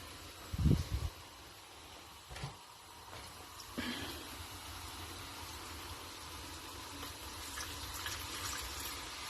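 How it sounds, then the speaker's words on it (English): Water poured into a pan of onions for a vegetable curry: a short splash and sizzle up front, a second brief pour, then a steady soft hiss of cooking that carries on quietly. "we need to add a little bit of water or else it's gonna burn"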